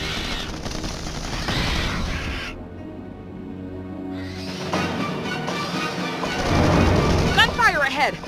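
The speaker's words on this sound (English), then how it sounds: "Gunfire ahead. That must be our guys in need of help." Rapid gunfire crackles in the real-time strategy game Starship Troopers: Terran Command during an urban battle, bursts mixed with bird-like cawing and under spoken voices, with a quieter gap midway.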